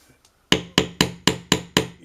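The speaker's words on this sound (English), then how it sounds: "Use the leverage in the crowbar just to wrench it up." A crowbar is worked under a light pendant to pry it loose: seven sharp, evenly spaced striking blows ring out close and loud, each fading quickly, after a moment of near silence.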